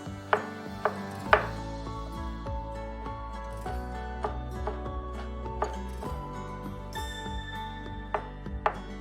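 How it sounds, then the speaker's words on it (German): A knife chops fresh ginger finely on a board, giving a rapid series of sharp, close knocks in an uneven rhythm, with a few louder strikes standing out from the steady tapping. "Ein Stück frischen Ingwer fein hacken."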